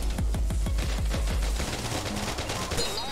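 Turret gunfire in a video game: a rapid burst of about ten loud, evenly spaced shots that stops partway through, leaving a dense rumbling game soundscape behind it.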